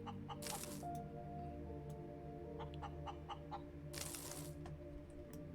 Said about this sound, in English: Good job, chicken.